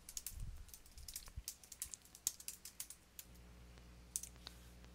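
Quiet typing on a computer keyboard, a run of irregular light key clicks, close and soft, with a faint low background hum.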